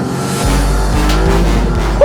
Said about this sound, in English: This is the Maserati MC20 and we're about to drive it on the roads.